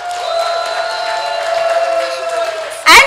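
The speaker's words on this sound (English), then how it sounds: "Huge round of applause." Crowd applause and cheering at a Swayamvaram celebration, welcoming the groom's family onto the stage; steady dense clapping with a constant tonal background and voices mixed in, ending in a sudden loud burst.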